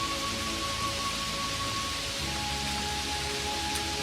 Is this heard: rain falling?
yes